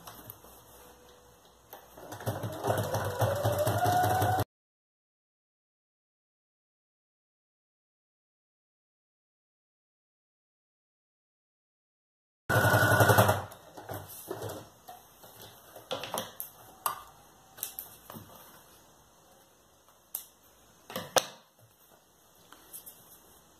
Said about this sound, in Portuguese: Agora eu vou passar uma costura de segurança toda a volta aqui, em cima, pra prender o tecido principal no forro